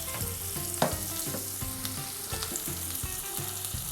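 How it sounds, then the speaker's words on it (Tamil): Small shallots sauté in hot oil in a pan for smelt fish curry, with a constant close sizzle broken by regular rhythmic stirring scrapes. "இந்த வெங்காயத்தை வந்து ஒரு 2 நிமிஷம் நல்லா வதக்கிடலாம்"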